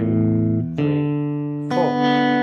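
An electric guitar plays a tablature exercise: a few sustained chords or notes ringing one into the next, with three distinct changes, clean and close with no voice over it.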